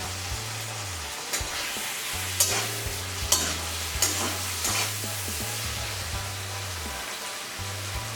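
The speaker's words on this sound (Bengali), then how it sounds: "পেঁয়াজটা হালকা ভাজা হলে এর মধ্যে আমি টমেটো, আদা বাটা আর যে ম্যারিনেশন মশলাটা বাকি ছিল সেটা দিয়ে কষিয়ে নিচ্ছি।" Onion, tomato, ginger paste and spices fry together for a rohu fish roast masala, giving a constant close sizzle broken by repeated rhythmic strokes of a spoon scraping the pan.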